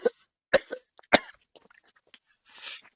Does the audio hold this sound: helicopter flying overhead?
no